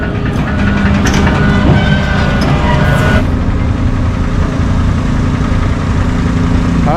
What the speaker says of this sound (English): you hear the pump whining on that thing?